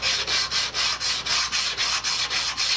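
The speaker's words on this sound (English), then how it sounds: "Trying to push this thing back and forth on this sandpaper with just your fingers on this little thin piece" A metal rebate plane blade, steadied by a magnet handle, is pushed back and forth on 150 grit sandpaper: about a dozen even, rhythmic rasping strokes, close and loud, with no talk.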